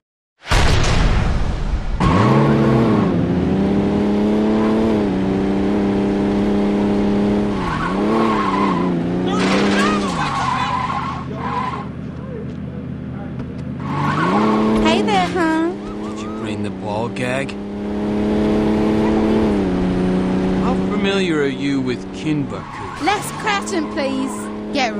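Tires squeal and skid under a revving car engine while driving in Saints Row 2, loud and sustained for most of the stretch with pitch sweeps as the car slides, and game voices talk over parts of it.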